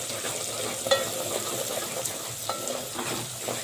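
Masala spices with garam masala, kasuri methi and salt sizzle and fry in oil for a fish curry, a steady close hiss with occasional stirring scrapes.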